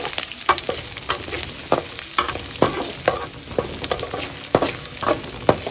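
Lemon rice ingredients sizzle and fry in a hot pan while being stirred, a steady bed of crackling with repeated scraping strokes, close and fairly loud, with no talk.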